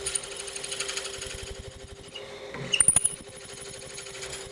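A drill and reamer bore through wood for a bagpipe part, giving a loud, steady machine whine with rapid rhythmic pulsing that pauses briefly midway and then resumes.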